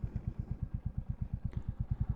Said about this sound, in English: the other one somewhere else for ambient noise or the motorcycle exhaust sound